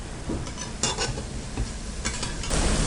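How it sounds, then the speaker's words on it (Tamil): Banana sweet bonda batter deep frying in hot oil, a steady close crackle of sizzling with bursts of stirring and spoon movement, no talk. "இப்போ நம்ம டீப் ஃப்ரை பண்ணி எடுத்துக்கலாம்"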